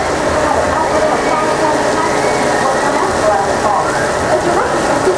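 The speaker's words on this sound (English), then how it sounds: "The rain effect that we use here is created with the same exact materials as actual rain." Artificial rain from overhead high-pressure rain cells on a studio backlot at Disney-MGM Studios, a dense, loud, steady hiss of falling water under a voice talking.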